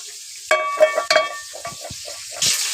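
Tengra fish frying in a pan, with intermittent sizzling and clattering bursts of oil and utensil noise, close and moderately loud, no talking.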